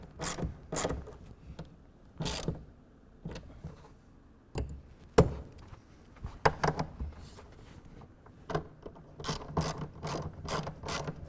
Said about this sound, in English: tighten everything down to 10 foot-pounds using a 1/2 inch wrench or ratchet